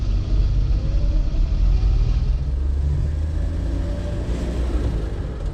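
Car with a three-on-the-tree column shifter pulling away from a stop sign in first gear, a steady low engine rumble rising with speed, loud and close, with no one talking.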